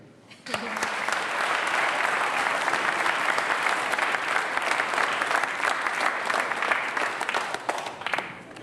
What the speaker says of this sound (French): l'envie de vous applaudir